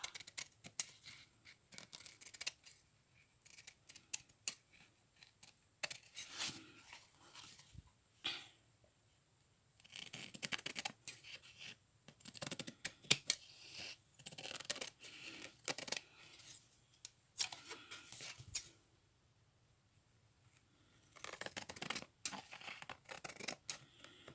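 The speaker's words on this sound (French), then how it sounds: "Couper le tuile qui dépasse." Scissors snipping through excess tulle on an art journal page, giving repeated short crisp cuts in bursts separated by quiet pauses, close and fairly faint.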